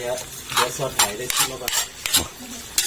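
Cabbage with pork being stir-fried in a pan, with repeated scraping stirs and clinks of a utensil against metal over a soft sizzle, close and fairly loud.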